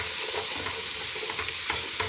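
Onions sizzle and crackle steadily in a hot pan for a couple of seconds, with a few soft stirring scrapes, close and fairly quiet.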